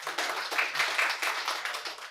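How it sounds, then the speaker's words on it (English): An audience claps and applauds at a tech week panel in New York, a dense, steady patter of many hands that carries on evenly for about two seconds. "If we could just get a round of applause for you guys out there."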